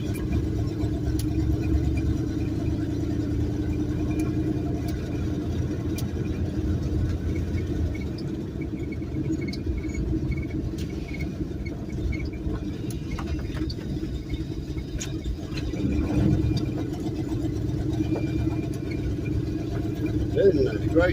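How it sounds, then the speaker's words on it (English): A car engine runs in fourth gear just above idle, a steady low rumble that holds for the whole stretch with only slight swells. "That fourth gear is just barely past idle."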